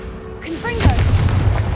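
A Confringo blasting spell goes off in the video game Hogwarts Legacy: a deep, booming explosion that rumbles on for about a second, with a voice calling out just before the blast.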